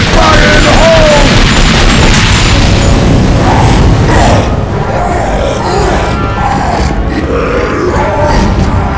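A grenade goes off in a video game firefight, a loud dense blast and crash filling the opening seconds, then rumbling debris and scattered impacts continuing steadily underneath.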